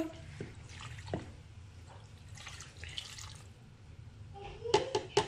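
Water trickles and splashes into the bowl of a Cookeo cooker as 200 ml is poured in, quiet and intermittent, ending in a few sharper splashy drops.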